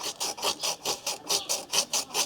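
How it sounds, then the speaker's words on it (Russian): Fine sandpaper rubbed back and forth over the bearing seats of an LG washing machine drum, a close, steady rasping scrape in about ten even strokes with no talk. "с помощью мелкой наждачной бумаги почистим посадочные места подшипников"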